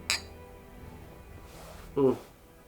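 Beer glasses of a 7% Northeast India Pale Ale clink together in a toast, two brief bright taps over a second apart, close by, with a voice speaking around them.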